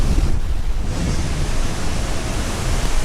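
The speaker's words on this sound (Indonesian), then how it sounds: "Anginnya cukup kenceng ya, cipratan airnya itu sampai ke sini." Strong wind buffets the microphone with a steady broadband roar near the Curug Cibeureum waterfall, its spray and rushing water blending into the continuous noise.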